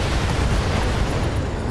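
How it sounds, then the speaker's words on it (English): An ammunition explosion from the BattleTech video game, a loud, dense, continuous roaring blast that fills the whole short moment with rumbling broadband noise and no talking. "Another ammo explosion."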